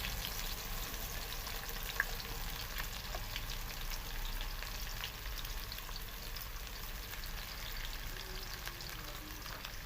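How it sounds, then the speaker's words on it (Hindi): Onions frying in hot ghee for a hotel-style moong dal, a steady close sizzle and crackle running unbroken throughout with no talking. "गरम गरम घी के अंदर प्याज जो है फ्राई हो रहा है।"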